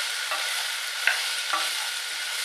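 Onions frying in a pan for chicken tomato pasta, a steady close sizzle with a few soft clicks as they are stirred around, no voices.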